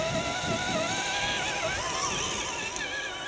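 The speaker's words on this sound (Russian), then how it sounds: "Сначала едет Defender у нас." A Land Rover Defender crawls slowly uphill through snow, its engine giving a steady, close drone at low revs with no talking.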